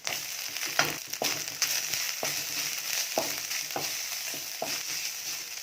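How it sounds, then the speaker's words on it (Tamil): Fennel seeds, cumin and coconut masala for a Kerala-style fish curry fry in sesame oil, crackling and sizzling continuously up close. Brief scraping stirs break through at intervals. "எண்ணெய் சூடு அடித்து சோம்பு, சீரகம், தேங்காய் போட்டுக்கலாம்"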